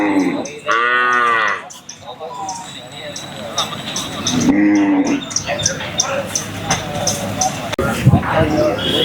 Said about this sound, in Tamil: மயிலை கிடாரி மாடு.